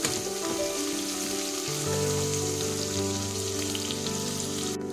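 Onions frying in a pan while making paneer and sweet corn pulao, a steady close sizzle with constant crackle and bubbling, loud and unbroken with no voices.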